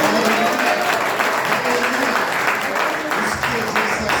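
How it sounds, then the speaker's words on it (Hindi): A congregation applauds in thanks to God at a Hindi church worship service, loud continuous clapping from many hands, with voices mixed in beneath the clapping. "तालियों के साथ खुदा को धन्यवाद देने के लिए"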